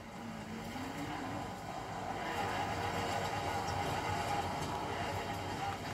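A customized car of about 750 horsepower in Forza Horizon 4 gives off a steady, rising engine roar that stays fairly faint and even throughout.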